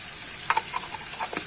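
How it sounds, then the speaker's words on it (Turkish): Steady sizzling of peppers frying in a pan, with light scraping and stirring clicks over the hiss. "Biberler kızarıyor."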